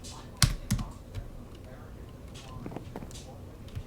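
A computer keyboard typing a chat command for a game mod, with a few sharp, separate key clicks early, then lighter scattered taps over a quiet background.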